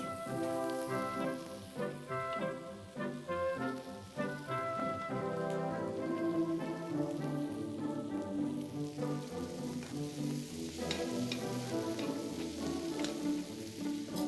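Asparagus sizzles in a hot frying pan in a home kitchen, a faint steady crackle running under louder background music, with no talking.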